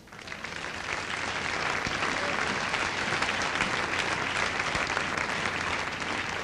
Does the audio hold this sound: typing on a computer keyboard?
no